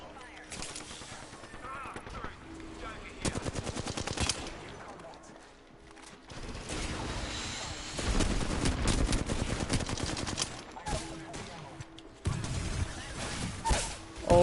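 Gunfire in the Apex Legends video game, with bursts of shots recurring through the clip at varying loudness, mixed with game effects and a voice speaking over it.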